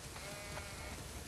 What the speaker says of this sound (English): Way too many sheep.